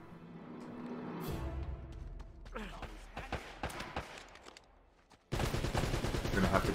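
Machine-gun fire in the Uncharted video game. Scattered sharp shots and impacts start it off, then a dense, sustained burst of automatic gunfire comes in loud near the end.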